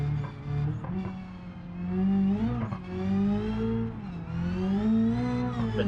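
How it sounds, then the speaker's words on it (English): A turbocharged race car engine in the video game BeamNG.drive drones steadily with rising and falling revs and a high turbo whine layered over the rumble, continuous throughout. "we have the sound of the motor a lot better, the sound of the turbo, you can hear it."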